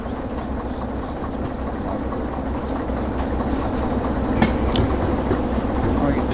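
A locomotive engine runs steadily in the Derail Valley train simulator game, a continuous loud rumble with rhythmic rail clatter and a few sharp squeals, no voice over it.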